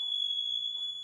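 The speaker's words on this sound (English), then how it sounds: "that motherfucking smoke alarm is on because they cooking some shit" A high, piercing smoke alarm tone sounds continuously and loudly, a shrill electronic whine with faint background noise beneath it.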